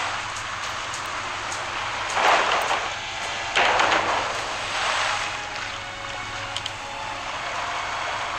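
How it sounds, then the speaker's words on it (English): A ship sails the sea in the video game Pirates of the Caribbean: Tides of War, with a continuous hiss of water and waves swelling into a few louder surges. "All right, so we are sailing along"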